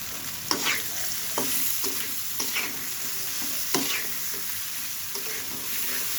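Potatoes sizzle and fry in hot oil, with a steady crackling hiss broken by repeated sharp stirring scrapes of a spatula in the pan, close and clear with no talking.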